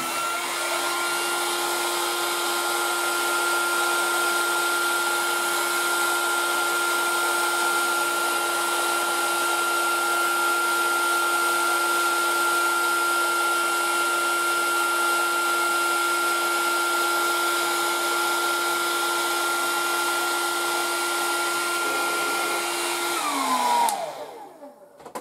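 A heat gun blowing hot air on a fire alarm heat detector during an SMS SenTRI system test, a steady loud whirring fan drone with a constant tone that winds down and stops near the end.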